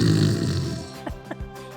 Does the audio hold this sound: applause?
no